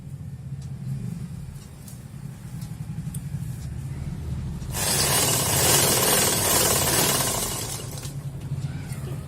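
Sewing machine stitching elastic onto saree fabric, a loud steady mechanical whir and rattle that starts partway through over a low background hum.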